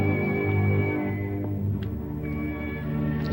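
A whale of a different species calls in steady, drawn-out harmonic tones, with a few brief higher squeaks layered on top, continuous and loud across the short stretch with no voices.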